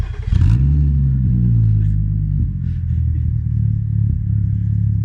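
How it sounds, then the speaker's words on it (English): A loud aftermarket exhaust on an Audi S4 rumbles at idle after a quick blip at the start, deep and steady throughout, with no talking. "It has got an aftermarket exhaust on it already, but to me it's a little bit too loud."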